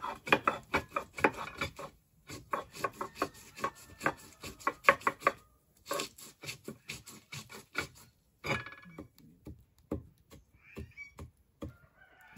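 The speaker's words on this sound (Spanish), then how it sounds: "Voy a quebrar el piloncillo" A washed piloncillo cane sugar cone is broken into pieces with a run of sharp, dry cracking knocks, loud and close, falling in irregular bursts with short pauses and no talk.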